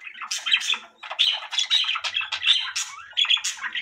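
Budgerigars squawk and chatter continuously in a breeding cage where a pair is raising three chicks, a dense, close flock of bright, rapid calls with no talking.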